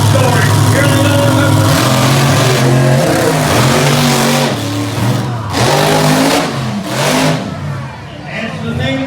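Race cars launch hard off the start line at a street drag race in Raleigh, North Carolina, engines revving and roaring loud and close as gears climb, with crowd noise and commentary underneath.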